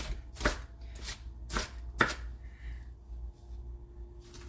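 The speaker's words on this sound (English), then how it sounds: "So I'm gonna keep cutting this onion up" A knife chopping an onion on a board: four sharp, evenly paced close chops followed by a pause and a fifth cut, no talk.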